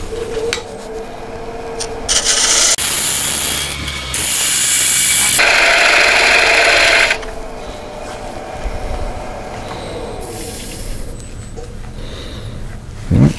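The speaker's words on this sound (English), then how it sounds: "So I'm just gonna go ahead and square up my tenon now so I can mount it in the chuck" Wood lathe squaring up a tenon on a natural-edge hollow form, with bursts of loud scraping and rasping cuts that rise and fall over several seconds, up close and with no talking.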